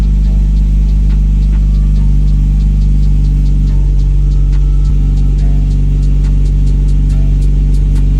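A steady, loud engine runs in an Infiniti G37, with a constant low drone and a regular faint ticking over it and no rise or fall in pitch.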